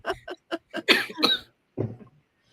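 A woman coughs in a rapid burst of several harsh coughs, then one more cough after a short pause, close and fairly loud with no talking.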